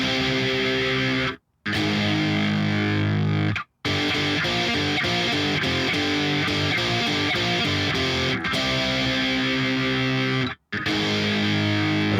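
A distorted electric guitar chugs through a riff, played loud and steady with short silent gaps between repetitions.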